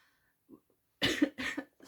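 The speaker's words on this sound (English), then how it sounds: "When my room is cold, it gives me a cough anyway" Several harsh coughs from one person indoors in a cold room, a faint throaty sound first, then two close, loud bursts and the start of another, with no speech.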